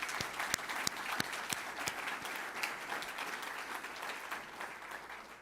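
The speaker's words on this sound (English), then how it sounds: "Let's give them another round of applause." An audience at a community planning presentation breaks into steady applause, a dense spread of claps that holds throughout and slowly thins toward the end.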